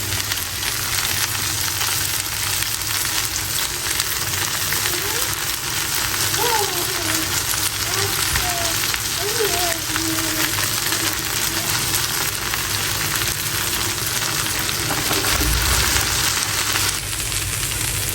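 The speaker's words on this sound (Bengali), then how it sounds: "এই দেখতে পাচ্ছেন ভেন্ডি ভাজি করতেছি দেখেন ভেন্ডি ভাজি করছি" Okra fries in a pan of oil with a dense, continuous sizzle close to the mic, with occasional stirring scrapes and some background noise.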